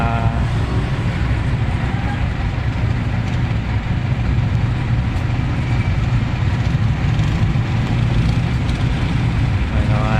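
Congested road traffic near a school in Valenzuela City, with a steady rumble of idling engines close by and a constant dense background hum, with occasional brief voices.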